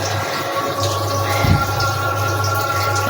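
Tap water runs steadily while fish are washed, a close, continuous splashing stream with a low hum underneath and a brief louder splash midway, no talking.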